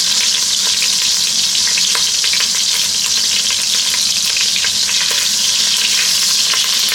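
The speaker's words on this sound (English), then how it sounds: "Let that butter melt." Half a stick of butter melts in a Dutch oven as the start of a seafood roux, giving a loud, dense, continuous sizzle and crackle close by, with no speech.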